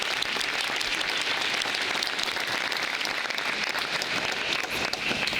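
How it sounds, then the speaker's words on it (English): An audience at a talk event on global politics applauds in sustained, dense clapping that fills the room at an even level throughout. "So everyone, give a round of applause for Helen."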